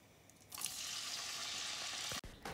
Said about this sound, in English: So I'm gonna fry up my smoked fish now.